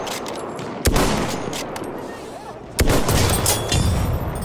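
Battlefield 1 battle audio with two sharp bursts of heavy gunfire, each followed by a sustained loud roar of fire and explosions, set against dense background combat noise.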